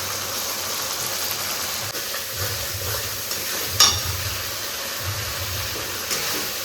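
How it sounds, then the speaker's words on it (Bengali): Spice paste with salt and turmeric fries in oil, a steady close sizzling hiss broken by occasional soft stirring scrapes and one sharp clink. "মশলাটা কিন্তু এই যে সুন্দর ভেজেছি, এই যে দেখো তেল ছেড়ে ছেড়ে দিয়েছে।"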